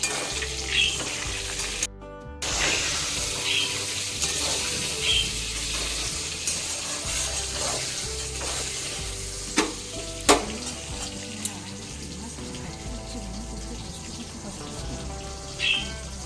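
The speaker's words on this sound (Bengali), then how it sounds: "তারপর বেগুনগুলো লাল লাল করে ভেজে তুলে নিচ্ছি" Eggplant slices fry in hot oil with a little salt and turmeric, giving a steady close sizzle and crackle across sixteen seconds, punctuated by a few clinks and stirring knocks.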